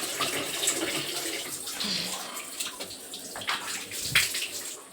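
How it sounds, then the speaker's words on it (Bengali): Water rushes steadily from a household tap left open near a basin holding dishes from lunch, a close, continuous splashing that holds fairly level throughout. "এদিকে মনে হয় কল খুলে রেখেছে"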